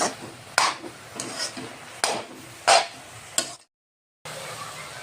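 A spoon scrapes and clinks in a pan while grated carrots sauté in ghee, giving several sharp irregular knocks over a soft sizzle, with a short silent gap near the end.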